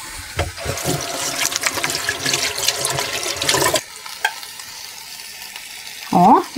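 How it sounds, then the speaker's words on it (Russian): Paratha flatbread fries in a Jardeko grill with vegetable oil, a dense steady sizzle for several seconds that suddenly drops away when the lid is closed, leaving a quiet hiss and a brief scrape at the end. "Лепешечка у нас жарится."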